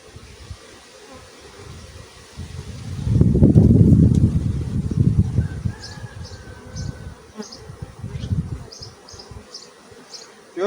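Honeybees at an opened hive during a colony expansion, with wax foundation sheets being added to the frames; a dense, steady buzzing swarm hums throughout, swelling loudest midway, with a few brief clicks of frame handling and no speech.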